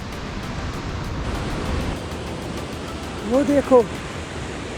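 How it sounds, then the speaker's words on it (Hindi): A waterfall roars as a steady, broadband wash of water noise on the Kheerganga trek, constant throughout, with someone briefly speaking near the end. "इस साइड वाटरफॉल बहुत ज़्यादा हो रहा है, बहुत ज़्यादा शोर है।"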